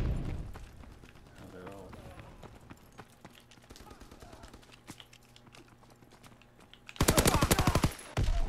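Machine gun fire in Call of Duty WW2, a loud rapid burst near the end following scattered game sounds and footsteps, with someone talking over parts of the clip.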